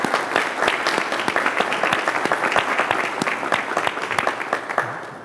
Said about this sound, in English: We applaud you and we thank you.